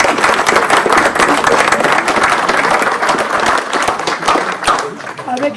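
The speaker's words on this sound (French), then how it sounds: "On peut l'applaudir." An audience at a memorial tribute in Brittany applauds with dense, sustained clapping that stays loud and steady before thinning slightly toward the end, with some voices mixed in.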